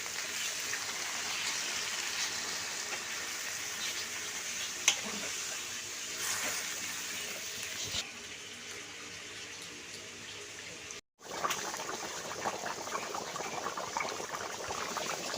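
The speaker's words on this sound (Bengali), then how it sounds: "তরকারিতে আমি এখন জল দেব" Water pours steadily into a simmering fish curry in a pot, a continuous broad splashing hiss with a few brief clunks and a short gap near the end before the flow resumes.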